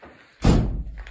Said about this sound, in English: Don't worry, it's just the door, not a cave monster trying to get you.